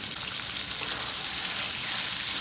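Chicken liver and hearts sizzle steadily in a karahi pan, a dense, even frying hiss that stays loud and continuous throughout with no voices over it.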